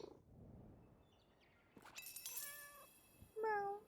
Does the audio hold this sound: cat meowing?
yes